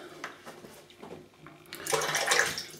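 Cold water runs into a sink during shaving preparation, soft splashes and clinks at first, then a louder rushing flow in the final second, close and brief.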